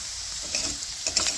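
Chillies frying in a pan give a steady, close hiss of hot oil, with a few soft clinks and scrapes near the end, no one speaking.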